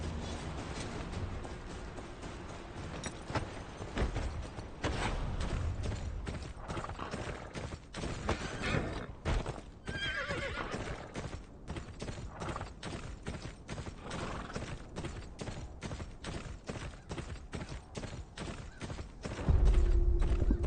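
Steady rhythmic horse hoofbeats clip-clop throughout, with creaks and a faint whinny, in the game Game of Thrones: Kingsroad; no talking.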